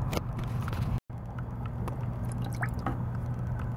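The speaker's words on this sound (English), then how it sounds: "I'm just going to put a little tiny splash in there" A small splash of liquid is poured into a gallon jug of water. Soft drips and a brief squishy pour stand out against steady low background noise.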